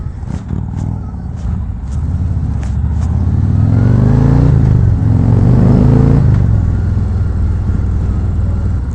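A 2019 Harley-Davidson Road Glide Special motorcycle on a test ride, its engine rumbling loud and steady with a rising rev swell partway through, wind and road noise around it, no talking.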